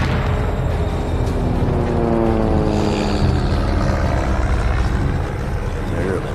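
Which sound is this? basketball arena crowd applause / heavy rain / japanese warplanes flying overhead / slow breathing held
japanese warplanes flying overhead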